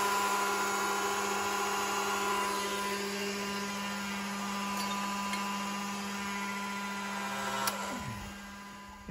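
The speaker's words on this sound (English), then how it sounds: "And a grinder." Grinder running steadily in a forge workshop, a constant motor drone with sustained tonal hum and broadband whine throughout, fairly close and alone, with a brief clank near the end.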